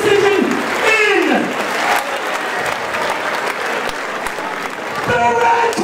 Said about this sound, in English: Give me two more of your fighters a fucking massive round of applause for that, guys!